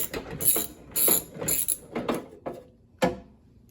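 A ratchet works loose the 10mm screws on the rear hatch lock of a 2004 Toyota 4Runner, giving a series of close, sharp clicking bursts in an uneven rhythm with short pauses between strokes.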